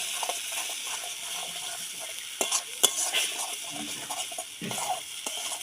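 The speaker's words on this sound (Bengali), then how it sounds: "এবার অল্প করে জল দিয়ে দেবো।" Prawn curry spice paste sizzles in a pan after a little water goes in, a broad hiss with scattered scraping and clinks from stirring, close but fairly soft, with a few louder bursts midway.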